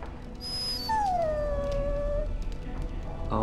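A dog in a video game gives one drawn-out mournful howl that rises and then slowly falls, close and clear over a low ambient hum, without any talking.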